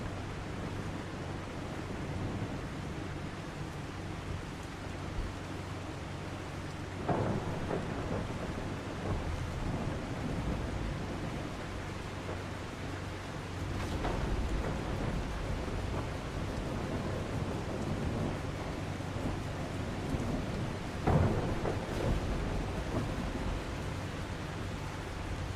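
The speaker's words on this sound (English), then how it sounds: "I reckon this game now gives you a storm every day." A steady wash of rain in a video game thunderstorm, with low thunder rumbles swelling in at intervals over the constant hiss, no voices present.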